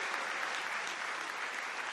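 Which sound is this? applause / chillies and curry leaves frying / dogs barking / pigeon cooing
applause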